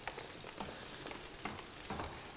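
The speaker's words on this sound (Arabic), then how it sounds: "وانا الدجاج تاعي راه يطيب" Chicken frying in a pan gives off a steady, soft crackling sizzle with small scattered pops, fairly quiet and continuous throughout.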